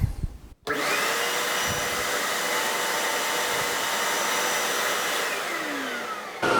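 A Camvac dust extractor running on a single motor switches on after a short handling noise and keeps up a loud, steady whining roar, cutting off near the end.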